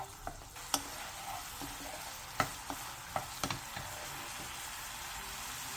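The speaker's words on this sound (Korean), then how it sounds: "어묵에 양념이 잘 배어들게 중약불에서 3분 정도 볶아주세요" Fish cake stir-fries with soy-based seasoning in a pan over medium-low heat: a soft, steady sizzle with occasional light clicks of a spatula against the pan.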